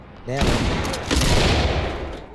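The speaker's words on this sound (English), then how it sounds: "Whether it's the sound of a flashbang going off in a room," A flashbang goes off in a room in the game Ready or Not: a loud sudden blast followed by a dense, roaring wash of noise that lingers, with a brief voice just before it.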